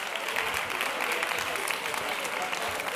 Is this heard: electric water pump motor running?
no